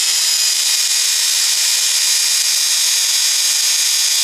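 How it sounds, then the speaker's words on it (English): A loud, steady high-pitched whine of a cordless drill spinning a small homemade generator continuously at full speed, close by, with no talking. "I'm going to drive it directly from the drill"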